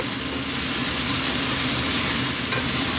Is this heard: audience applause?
no